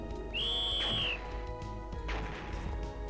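A whistle blown in the Tail Concerto video game: a single sustained, clear tone that slides slightly and then holds for just under a second, over steady game background sound, followed by a couple of soft knocks.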